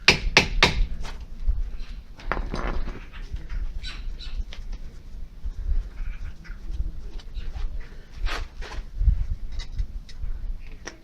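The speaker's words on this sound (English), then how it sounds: "knock with a hammer." A hammer knocks on the front brake caliper bolts of a Toyota Avensis 2.2 diesel, making a series of sharp, irregular metallic taps spread over about eleven seconds with quiet gaps between them.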